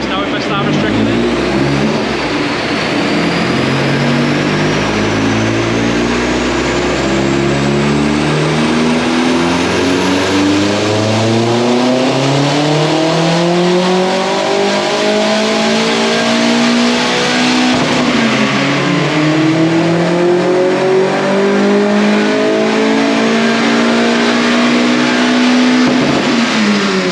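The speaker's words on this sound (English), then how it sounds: "That is the Astra VXR mapped again for the methanol and obviously the additional bits that we've fitted." Vauxhall Astra VXR with a K06 hybrid turbo, forged internals and methanol fuel revving hard during mapping, with a loud sustained engine roar whose pitch sweeps up and down through repeated pulls over half a minute, with a voice faintly beneath.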